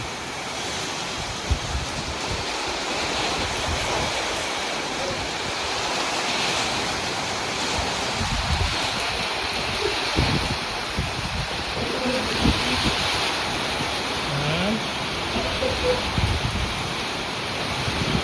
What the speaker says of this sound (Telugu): ఇప్పుడైతే సడన్గా వర్షం ఫుల్ వర్షం కురుతుంది